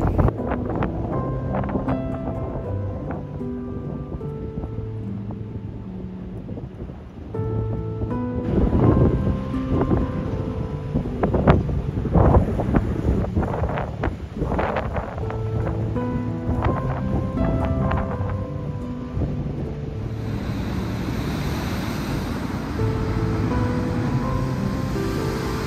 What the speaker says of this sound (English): oh yes, look at those waves